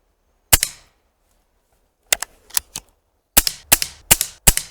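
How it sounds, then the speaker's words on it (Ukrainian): Sharp, sudden shots from a Hatsan/Optima mod 25 SuperCharger air rifle fired one-handed, one alone, then a pair, then a quick string of four or five, each crisp and close with a brief decay. "Тепер спробую однією рукою постріляти."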